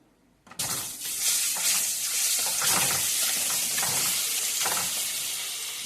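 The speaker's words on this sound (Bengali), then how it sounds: "ডিমগুলো ফ্রাই করে নেব।" Eggs go into hot oil in a pan and burst into a loud, close sizzle that starts abruptly after a brief quiet moment. The crackling hiss then holds steady and fades slightly toward the end.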